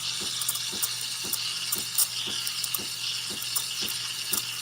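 A steady hiss of an espresso machine steam wand frothing milk, with faint rhythmic sputtering ticks of air drawn into the milk, close and continuous.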